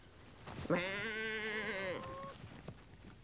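A sheep gives one sustained, wavering bleat of about a second and a half, clear and close, with a quieter tail after it and faint background noise.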